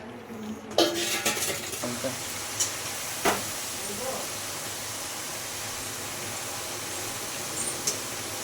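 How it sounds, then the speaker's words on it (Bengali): Nimki snacks fry in oil in a wok, giving a steady broadband sizzle with a few metallic clinks of a utensil against the pan, close and fairly even throughout without talk. "এই যে বন্ধুরা নিমকি ভাজা হচ্ছে"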